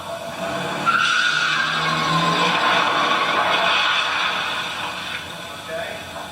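A stunt car skids during a rehearsal for a car-flip scene, with a drawn-out tire squeal and engine noise swelling and then fading over several seconds at moderate distance.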